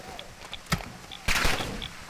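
Scattered gunshots in a Call of Duty firefight, a sharp single crack followed by a denser burst of fire, with faint beeping tones and brief voices in the background.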